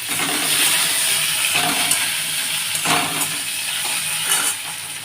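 Hog plums dropped into hot oil tempering for a Bengali chutney, giving a continuous hissing sizzle with a few brief bursts of crackle, close and fairly loud.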